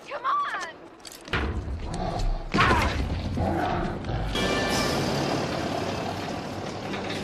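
An armored bulldozer's engine rumbles heavily, with mechanical clanks and a few dull thuds as it moves, the diesel drone holding steady and fairly close.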